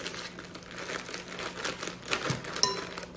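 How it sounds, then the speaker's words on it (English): A plastic bag of frozen shredded hash browns for a cheesy casserole is cut open and poured, with steady close crinkling and rustling of the packaging throughout. "So cut that open. Just add the hash browns."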